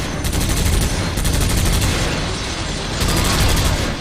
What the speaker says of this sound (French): Voilà, un petit tir de suppression pour qu'il soit cloué devant ma grenade et qu'il n'ose plus bouger.